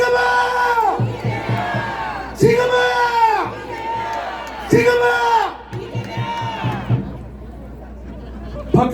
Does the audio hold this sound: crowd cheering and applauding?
yes